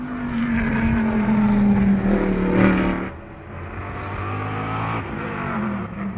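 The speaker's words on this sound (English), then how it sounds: "Kevin Buckler, who we had in here earlier, is in 4th position in his Porsche, the Daytona winning Porsche." A Porsche race car, a Daytona-winning entry, climbs the hill at Sonoma Raceway during a vintage race festival, its engine loud and close with a high sustained whine, a brief lift and gear change, then renewed acceleration.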